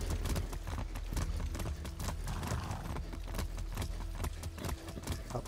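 A horse gallops in Far Cry 6, hooves pounding in a fast, steady rhythm that stays close and continuous throughout.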